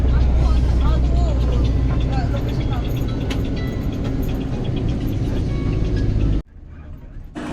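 Interior of a car travelling from Delhi toward Haridwar, a steady low road and engine rumble with tyre noise under a talking voice, dropping sharply quieter near the end.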